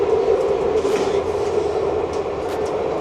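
A train rumbles steadily in Dublin, with a continuous low, even drone and faint rail noise throughout, fairly loud and without talk.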